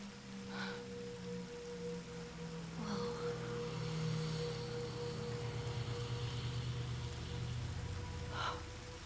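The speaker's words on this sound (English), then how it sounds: "Back to the loud rain." Loud rain pours in the video game The Last of Us: Left Behind, a constant steady wash with a few low tonal hums and brief soft bursts over it.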